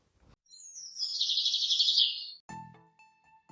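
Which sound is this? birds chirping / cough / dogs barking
birds chirping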